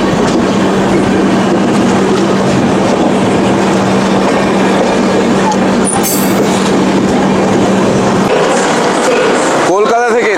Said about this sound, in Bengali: আমাদের ট্রেন ঢুকছে মুরাদাবাদ জাংশনে।